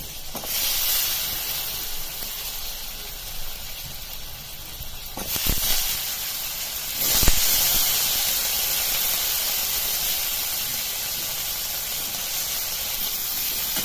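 Soaked potatoes drop into a hot tempering, producing a continuous close hissing sizzle with a couple of louder bursts partway through, steady throughout.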